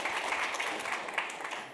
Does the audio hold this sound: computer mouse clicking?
no